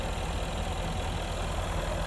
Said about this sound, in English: One of the best sounding engines in 2024. Jaguar is sticking, or it has stuck with the V8 for the F-Type.